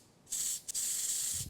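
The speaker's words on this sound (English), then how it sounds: "Spray the bottom with a bit of gold" Gold edible colour spray hisses from a can onto the base of a chocolate dragon egg in two short close bursts, the second longer and steady.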